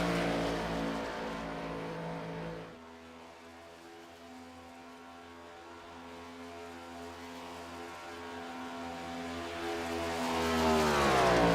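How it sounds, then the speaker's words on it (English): Stock race car engine in a Talladega cup-series racing game droning down the straightaway, a steady harmonic roar that dips after a few seconds, then slowly builds louder toward the end. "Listening to Nathan Lyon down the back straightaway, it almost sounds like he's not getting everything out of the race car."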